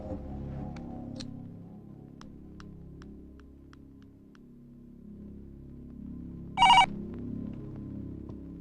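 A telephone rings indoors in a quiet room: faint chirps early on, then one short, loud burst of electronic ringing near the end over a low hum.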